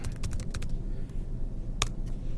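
A handful of quick taps on a computer keyboard, a short burst at the start and one isolated keystroke later, close and fairly faint over a quiet room hum.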